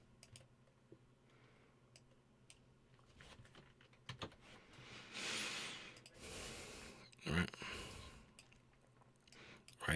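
Computer keyboard typing sounds as faint scattered clicks and taps, with breathing and rustling and a few louder bursts in a quiet room.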